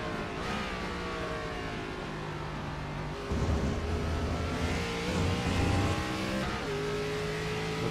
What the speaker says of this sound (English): Hopping on board with our second place car of Sam Hoff